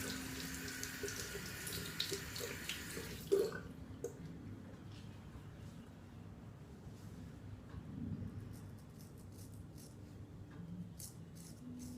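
Hot tap water runs steadily into a sink while something is rinsed under it during beard trimming. The flow is strong and bright at first, then turns quieter and thinner, with faint splashes and drips.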